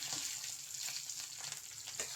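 Onions and curry leaves frying in hot oil for sambar, a steady dense sizzle with crackling pops throughout, close and even, with no voices.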